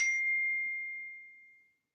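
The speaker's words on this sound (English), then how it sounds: "I'm just getting these notifications that I'm reading" A single bright notification ding rings out alone in silence and fades smoothly over more than a second.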